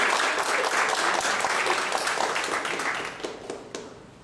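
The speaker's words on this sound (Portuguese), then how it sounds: "Uma salva de palmas para ele." Audience applause fills the room at a talk event, a dense steady clapping from a crowd that holds strong for a few seconds and then gradually thins out and fades toward the end.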